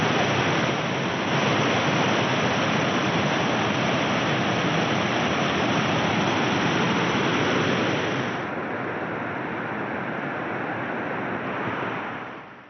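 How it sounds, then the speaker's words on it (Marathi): Kondi waterfall in Konkan, swollen by heavy monsoon rain, pours in a dense, steady roar that stays loud and constant and eases slightly near the end, with no voices. "आता पुन्हा एकदा हा धबधबा धोधो वाहू लागलाय"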